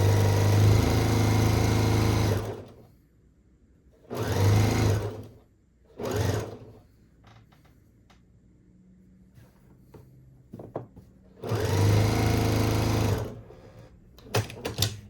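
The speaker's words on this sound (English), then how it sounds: "I'm going to stitch down right from the top corner all the way down." A sewing machine stitches fabric for a Japanese-inspired fabric box, running from the top corner down in several loud, close bursts of steady whirring separated by pauses, with small handling noises in the gaps.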